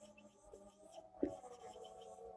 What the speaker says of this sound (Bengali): এটা বাংলা বাক্য লিখি।